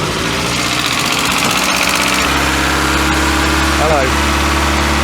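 A Mk2 Volkswagen Scirocco engine, just sprayed with brake clean, catches and settles into a steady, loud idle with a low, even drone, and a person briefly speaks over it.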